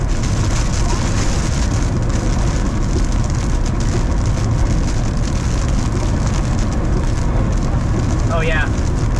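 Heavy rain and strong wind roar close and loud throughout during a high-precipitation tornado intercept in Mississippi or Alabama, a dense continuous downpour with no pauses.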